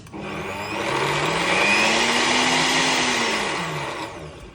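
A Tefal BL871D31 blender runs steadily at high power, its motor whine swelling and dipping slightly as the load changes, loud and close with no talking.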